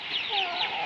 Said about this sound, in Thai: นี่เบิ่งไก่เจ้านี่ โหไก่หลายเนาะ